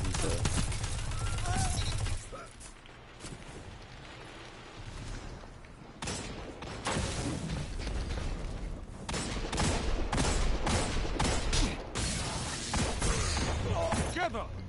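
Hand cannon fire in a video game rings out as repeated loud blasts, mixed with dense battle noise and explosions while players talk over it.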